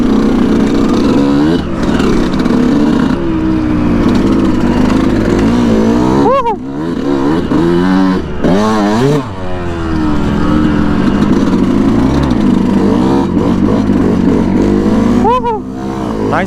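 A Yamaha YZ125 two-stroke dirt bike is ridden over sandy ground, its engine droning loudly and revving up and down throughout, with a voice talking over it.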